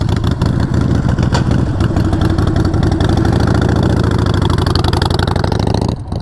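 A motorcycle engine running loud and close, a steady throbbing idle with light revs that hardly let up before it quickly drops away at the end.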